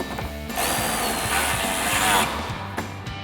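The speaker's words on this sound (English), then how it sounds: "We'll tighten that back down with our 10mm socket." A 10mm socket on a power driver runs for about two seconds, tightening a nut on a 2005-2013 Corvette fender edge mount, close and steady, with short clicks and clatter before and after.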